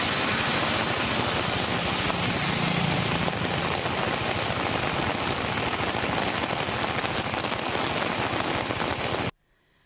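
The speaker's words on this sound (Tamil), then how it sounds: "மாரியம்மன் கோயில் தெரு உள்ளிட்ட இடங்களில் மழை பெய்தது" Heavy rain pouring down in Tamil Nadu, a dense, loud and unbroken hiss of downpour that cuts off abruptly just before the end.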